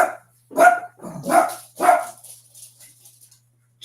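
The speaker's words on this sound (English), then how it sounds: "Sorry about the dog." A dog barks loudly and close by, three sharp barks followed by a few softer trailing yips, alone against a quiet room.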